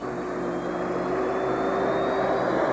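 A Lockheed F-117 Nighthawk test plane flies on its first flight, giving a steady, loud aircraft engine roar with a constant drone and no speech.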